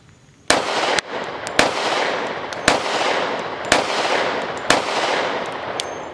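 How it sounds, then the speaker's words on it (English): Six sharp gunshots from a Springfield Armory 1911 Emissary .45 ACP pistol fitted with a shroud, fired at a steady, unhurried pace, each loud crack followed by a brief ringing decay. "I'm shooting 45, but with this shroud"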